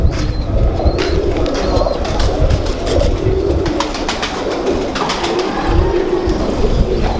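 Pigeons coo close by in repeated soft, throaty phrases that overlap and recur every second or so, with occasional faint chirps and wing flutters mixed in.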